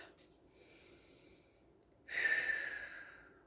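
A person breathes in and out audibly up close, with a soft inhale followed by a louder, longer exhale, and no talking.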